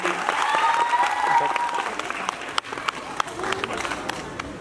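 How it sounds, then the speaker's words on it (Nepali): Applause from an audience at an award ceremony honouring nine actresses, dense continuous clapping filling the hall for several seconds with an announcer's voice over the top. "जोरदार ताली नौ देवीका लागि"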